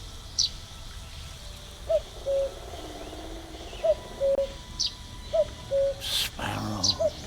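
A two-note cuckoo call from a rabbit-hunting video game repeats three times at a moderate distance over a quiet outdoor ambience, with brief higher bird chirps between the calls.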